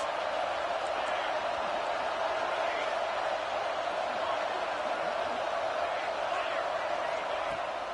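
A stadium crowd at a college football video game on fourth down keeps up a steady, unbroken roar throughout, with a commentator talking over it.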